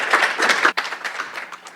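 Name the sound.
applause for the Climate Resilience Platform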